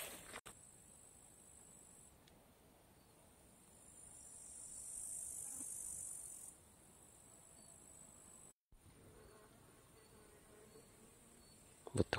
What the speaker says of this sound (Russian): Мухи жужжат.